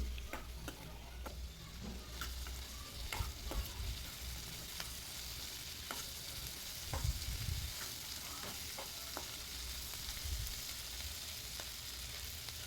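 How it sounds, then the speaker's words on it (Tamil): Two large chopped tomatoes sauté in a hot pan for coriander chutney, giving a steady close sizzle broken by repeated scraping and clinking strokes of a spoon stirring the pan. "ரெண்டு பெரிய சைஸ் தக்காளியை இந்த மாதிரி கட் பண்ணி உள்ளே சேர்த்துருக்கேன் அதையும் நல்லா சேர்த்து வதக்கி விட்டுடலாம்"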